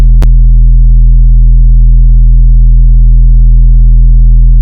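A deep, steady bass tone hums continuously with a rounded, softly saturated character, preceded by a short click at the start.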